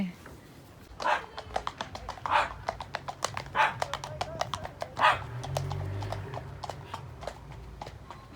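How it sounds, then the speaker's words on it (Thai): Horses pass along a country path, their hooves clopping in a steady, close rhythm. A dog barks several times over them, and faint talk and rustling sit underneath. "เวลาม้ามาเราต้องหยุดให้ม้าค่ะตะกี้ม้าตื่น"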